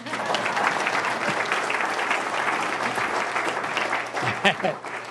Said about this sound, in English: You can clap for him, too